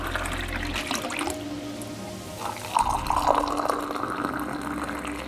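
Water pours and splashes steadily into a vessel, a soft continuous trickle that grows brighter and gurgles as the level rises.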